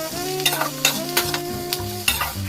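Vegetables and onion fry in a pan, a steady sizzle broken by sharp scrapes and knocks of a spoon stirring them, close and loud.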